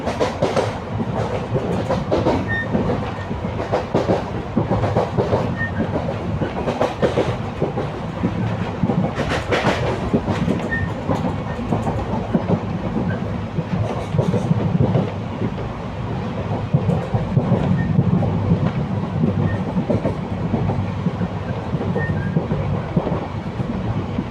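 Kalka-Ambala passenger train rounding a curve on the Baddi line, with a continuous loud rumble, rhythmic clickety-clack of wheels over rail joints and metallic squeals, heard from inside the carriage with no talk.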